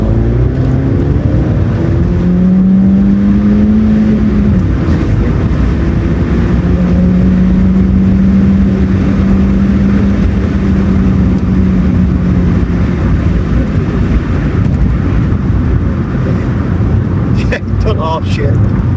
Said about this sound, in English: See if we can get some exhaust noises for you.